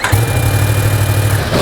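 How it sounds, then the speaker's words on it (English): A Yamaha R1 sport bike's engine gives a loud, steady exhaust drone close to the microphone, holding an even idle note that then cuts off at the end. "one of the best parts about owning a high-powered sport bike is their exhaust notes that they make, and the R1 is no exception"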